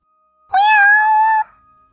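A single clear cat meow, close and loud, rises and holds for about a second before fading, standing alone against silence.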